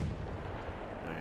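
Mortar fire booms in the Battlefield 1 video game, a dense, heavy rumble of artillery that fills the whole short moment at a steady low level.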